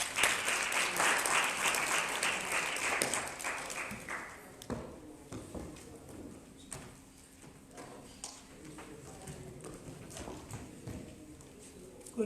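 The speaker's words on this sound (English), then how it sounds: "Masingala, let's welcome her with a big round of applause" Audience applause at a customer service week convention in Botswana, welcoming a speaker to the stage; dense clapping for the first few seconds, then thinning out into scattered claps and footsteps.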